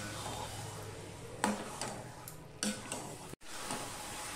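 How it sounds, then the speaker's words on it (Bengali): Chicken pieces are stirred into spice masala in a pot, heard as a quiet sizzle broken by a few distinct scraping stir strokes and clinks of the spoon. "এবার মশলার সাথে আমি মাংসটা পুরো মিশিয়ে নেব।"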